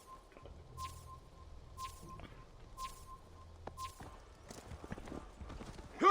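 Steady rhythmic clip-clop of horse hooves at a walking pace, fairly close, with a faint tonal hum in the background and no talking, in Assassin's Creed Valhalla.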